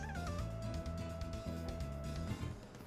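A house cat perched on a cat tree by a kitchen window gives a short, faint meow at the start, almost buried under steady, looping video-game music.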